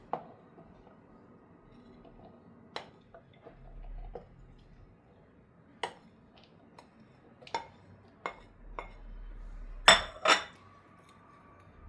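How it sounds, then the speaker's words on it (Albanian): A spoon clinks and scrapes against a bowl as couscous is mixed with vegetables, including sweet potatoes, red onion and peppers. The sharp taps come sparse and irregular, ending in a louder pair of rattles. "dhe të gjitha këto i përzijejmë."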